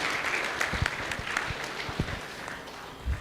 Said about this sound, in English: Please welcome sir with a big round of applause.